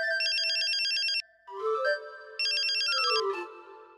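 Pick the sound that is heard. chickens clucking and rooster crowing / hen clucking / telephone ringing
telephone ringing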